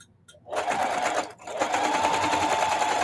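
A sewing machine stitches along a gold line on a holiday wall hanging, running in steady bursts with a brief pause midway, close and loud with no talking.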